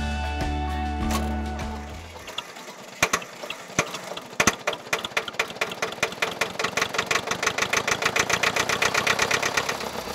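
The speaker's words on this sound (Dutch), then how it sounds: "De trekker is gebouwd in 1955 en heeft 16 pk." A restored 1955 Hanomag R 16 tractor with a 16 hp engine idles with a low hum, then settles into a steady, quickening run of loud mechanical knocks and clicks, heard up close with no talk.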